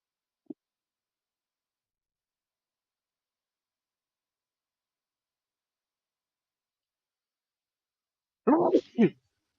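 One sneeze bursts out near the end after a long near-silence, a sharp two-part expulsion preceded by a tiny click, close and fairly loud.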